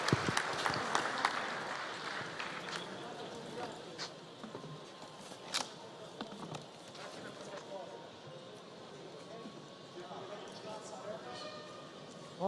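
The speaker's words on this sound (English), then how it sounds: "give them a good round of applause" An audience applauds steadily for a rescue team from Milan at a vehicle extrication challenge. The clapping is loudest at first and then thins. A voice talks over it.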